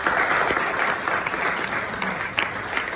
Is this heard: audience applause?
yes